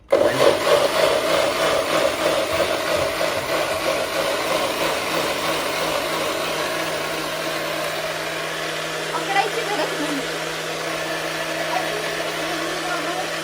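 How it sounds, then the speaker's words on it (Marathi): A blender whirs loudly and steadily, pureeing onion and tomato, its motor droning throughout with a slight dip in pitch partway through, while a voice may be faintly present. "मिक्सर मधून काढणार कांदा आणि टोमॅटोची मी प्युरी बनवते"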